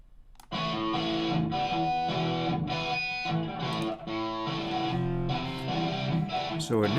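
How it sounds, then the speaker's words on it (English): An already distorted electric guitar plays sustained, gritty chords, loud and steady with a few short breaks, ending in a quick bend. "What about a guitar that is already distorted?"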